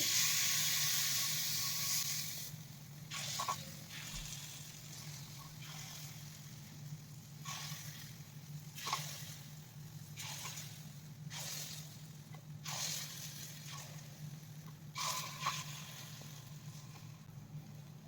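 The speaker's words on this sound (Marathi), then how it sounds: "यामध्ये आपल्याला चमच्याने थोडं थोडं बॅटर आप्पे पात्रामध्ये टाकून घ्यायचं आहे" Jowar batter spooned into an oiled appe pan sizzles steadily, with a soft hiss from the start and repeated brief crackling bursts every couple of seconds as each spoonful hits the hot oil.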